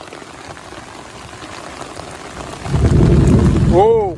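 Heavy rain drums steadily on a camping tent at night, then a deep, loud roll of thunder swells in and rumbles to the end, with a brief voice at the close.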